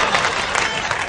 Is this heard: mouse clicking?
no